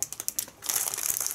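A plastic bag holding 30 metres of self-watering wick cord for a bonsai pot is handled close by, first with a few quick crinkles and then a denser stretch of crackling.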